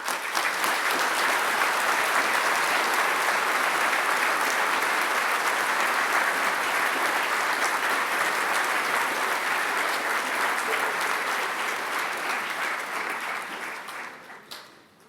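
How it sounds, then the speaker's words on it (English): Sustained applause from a large audience at a university graduation ceremony, honouring freshwater and marine biology graduates, a dense even wash of clapping that holds for about twelve seconds before fading away. "stand to receive their applause"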